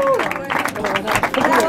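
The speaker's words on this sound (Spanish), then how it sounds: "¡Fuerte el aplauso!" Spectators at a polo tournament awards ceremony clap and cheer in a short, dense burst of applause, with a loud voice talking over it.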